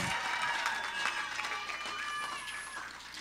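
Sustained applause from an audience in a hall at a university graduation ceremony, a steady broadband clatter of many hands holding level for the full few seconds before easing slightly at the end.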